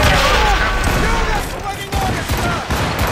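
Ship cannons fire repeatedly in the Assassin's Creed Rogue naval battle, loud overlapping booms under dense battle noise, with shouted voices over the barrage.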